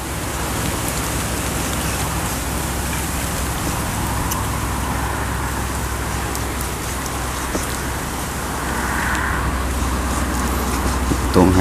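Steady rain pours down with a constant rushing hiss, mixed with a low rumble of wind, continuous throughout.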